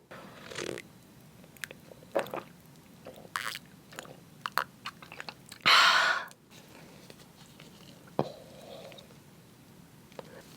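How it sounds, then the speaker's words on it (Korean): Someone eats spicy marinated raw crab up close, with soft sticky bites, squishing chews and occasional crunches, separated by quiet pauses and a brief louder rustle. "오늘은 양념게장 먹어볼게요"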